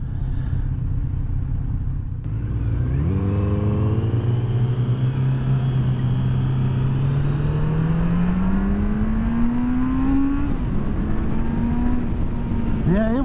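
A 2023 Kawasaki Z900RS Cafe motorcycle engine pulls steadily while riding, its drone climbing in pitch as it accelerates over several seconds, loud and continuous with wind rumble.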